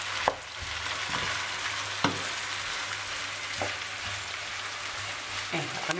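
Chopped potatoes fry in a pan for a vegetable tortilla, with a steady, close hiss of sizzling oil and occasional light knocks of stirring scattered through the clip, and no speech.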